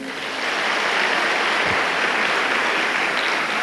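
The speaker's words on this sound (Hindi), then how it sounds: "एक बार ढंग से तालियां बजाइए" An audience at a motivational Hindi poetry gathering claps, building into a loud, dense, sustained wash of applause that holds steady without pause.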